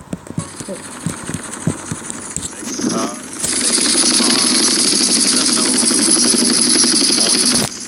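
A Hunter military helicopter in GTA San Andreas mobile: scattered clicks first, then the rotor and engine spin up into a loud, steady, high-pitched whine with a dense rhythmic chop that carries on to the end.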